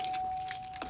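Keys jangle in a brief, close metallic rattle as the engine of a 2014 GMC Acadia Denali is switched off, with a faint steady electronic tone underneath.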